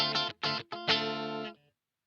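An electric guitar in single coil mode played through a distortion pedal, three short choppy distorted chords and then one longer sustained chord that cuts off cleanly into silence.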